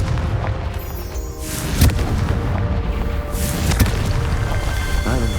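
Confringo fire spell from the Hogwarts Legacy video game, with two loud, booming explosive blasts about two seconds apart over a dense, roaring game soundscape.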